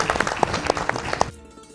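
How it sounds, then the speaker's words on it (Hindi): Brief audience applause welcoming a guest at an addiction-recovery event, a short burst of clustered claps that cuts off abruptly into quiet. "जोरदार तालियां इनके लिए।"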